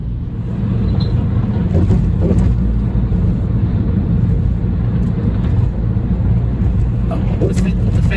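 A car driving near the Golden Gate Bridge gives a loud, steady road and engine rumble from inside the cabin, continuous throughout, with a person talking over it.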